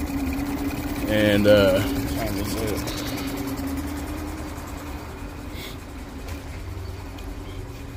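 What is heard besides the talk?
Mercury 20hp EFI four-stroke outboard engine running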